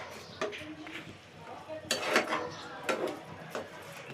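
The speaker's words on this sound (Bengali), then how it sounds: "আমি চাল আর মাংসটা ভালোভাবে ভেজে নিব" A spatula scrapes and stirs rice and chicken in a metal pan in bursts, with clanking and a faint sizzle; a voice speaks briefly at times.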